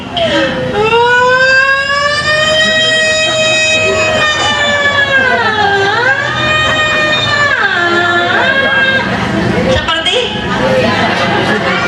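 A voice imitates an ambulance siren at a crowded mosque gathering, a loud wailing tone that rises and falls in pitch over several seconds, with no other talk.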